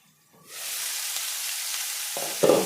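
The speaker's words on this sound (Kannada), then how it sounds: "ಚೆನ್ನಾಗಿ ಕುಂಬಳಕಾಯಿ ಬೇಯೋ ತನಕ ಎಣ್ಣೆಯಲ್ಲಿ ಫ್ರೈ ಮಾಡ್ಕೋಬೇಕು" Pumpkin pieces fry in oil in a covered pan, a steady loud sizzle that starts abruptly and holds evenly, with a couple of clinks near the end.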